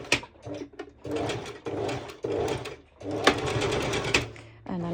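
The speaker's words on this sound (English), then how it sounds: "So I'm just simply doing a straight stitch." Sewing machine running a straight stitch at stitch length 3 on fabric, in several bursts of rapid steady needle chatter separated by short pauses, close and fairly loud, with a voice talking between and over the runs.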